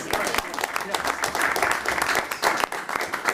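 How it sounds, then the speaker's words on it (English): A crowd applauding steadily at a school committee meeting, dense clapping that rises and falls slightly over a few seconds, fairly close. "we're going to give her another round of applause"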